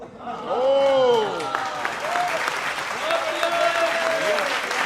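Audience applause at a Hindi stage comedy performance, clapping from a crowd rising and holding under a voice that speaks over it with drawn-out tones.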